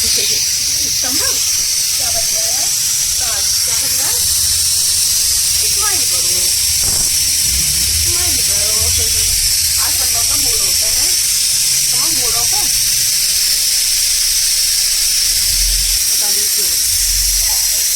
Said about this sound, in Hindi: अच्छे से धोने के बाद फिर उसको चढ़ा देंगे कुकर में और लगा देंगे 4 सीटी।